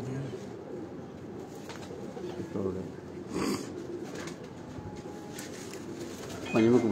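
Racing pigeons coo softly at a loft while their arrival is being stamped, low throaty calls recurring under people talking nearby, with a brief flutter near the end.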